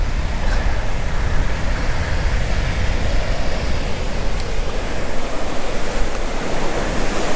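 Ocean surf rolls onto a beach at the southwestern tip of Oahu, Hawaii, as a continuous loud roar of breaking waves, with no talking.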